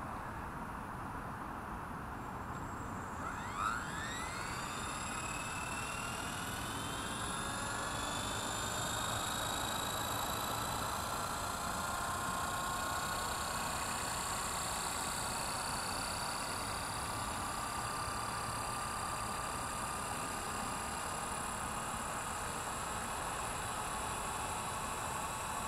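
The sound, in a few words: Blade 230s V2 RC helicopter spooling up for takeoff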